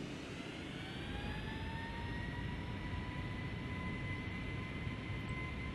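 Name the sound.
Boeing 757 jet engines spooling up for takeoff, FSX video game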